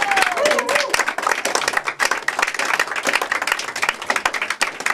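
An audience at a French chanson concert claps loudly for a guest musician. The applause is dense and slightly uneven, with crowd noise and a short whistle near the start.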